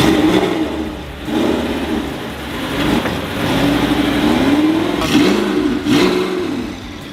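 A rallied Audi R8 under restoration runs with a loud, close mid-pitched engine note, revving up and down in several swells with no one talking.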